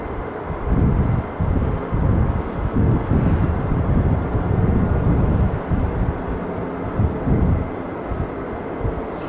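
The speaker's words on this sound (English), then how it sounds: "I can still hear F-15s running down the other end" F-15 jet engines running at the far end of the airfield at RAF Lakenheath on a cloudy night, a steady, rumbling low roar with fluctuating surges, heard at a distance with no voices.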